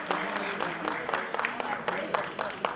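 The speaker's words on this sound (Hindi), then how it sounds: "कलाकारों के हौसला अफजाई के लिए जो आपने तालियां बजाई" An audience at a Nari Shakti award program in Pyare Lal Bhawan, Delhi, claps for the performers, with scattered moderate claps running under a person speaking throughout.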